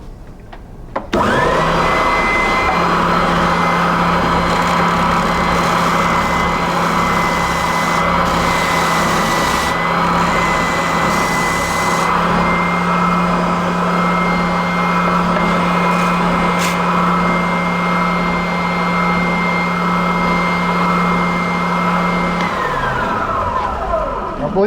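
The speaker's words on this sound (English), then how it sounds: "We'll see how this new sander works." A new electric sander runs on wood for a woodworking foot stool, a loud steady whining drone that starts abruptly and holds for over twenty seconds before winding down, with no talking over it.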